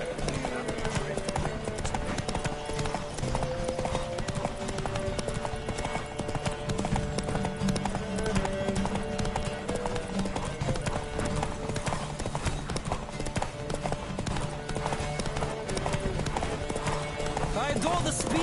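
Horses galloping in a race in The Witcher game, rapid rhythmic hoofbeats continuing steadily for the whole stretch under game music, with a rider's voice calling over them.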